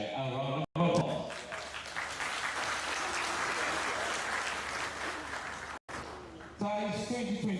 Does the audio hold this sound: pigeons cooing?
no